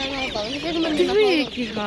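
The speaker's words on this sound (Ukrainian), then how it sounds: "Каченятка." Ducklings give high, quick peeping and chirping calls, overlapping closely and nearby, with a wavering, sliding pitch, at a market.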